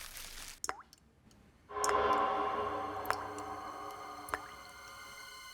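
Faint, isolated drips plop one at a time at uneven intervals, each short and sharp, over a quiet background that later fills with a low, steady hum.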